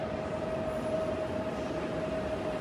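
Steady rumbling rail noise fills the space inside a moving compartment train carriage, a constant loud roar with a faint tonal whine on top.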